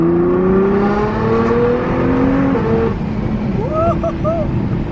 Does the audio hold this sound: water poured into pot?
no